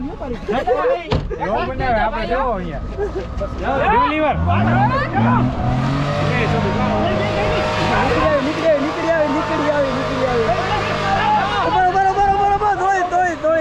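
A car's engine revs hard in rising and falling surges, trying to pull free after getting stuck in the swamp of the Kutch Rann desert, with loud people talking and shouting close by throughout.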